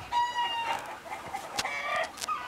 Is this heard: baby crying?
no